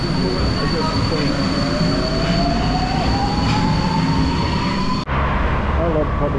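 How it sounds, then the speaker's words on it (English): A Metro Line M2 train rumbles loudly up close as it departs, with a rising motor whine and a high squealing tone over steady rail noise, then an abrupt shift in sound near the end. "Yeah, but is the train going to go now?"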